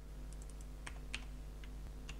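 Keys tapped on a computer keyboard in an irregular, sparse pattern of quiet clicks, close by over a steady low electrical hum, with no talking.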